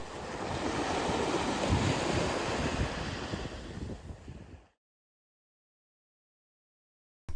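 Ocean waves wash onto Ikitsuki Beach in Nagasaki, a loud, continuous surf roar with wind buffeting the microphone, ending abruptly in silence.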